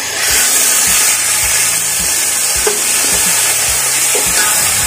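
Loud, steady sizzle of oil sautéing in a pan for semiya biryani, with a continuous hiss and repeated stirring scrapes running through the whole stretch, and no talking.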